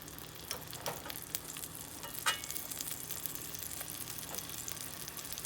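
Half a stick of sweet cream salted butter and two tablespoons of minced garlic sizzle steadily in a heated pan, a soft, even frying hiss with a few faint utensil clicks.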